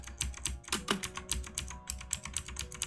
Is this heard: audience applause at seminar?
no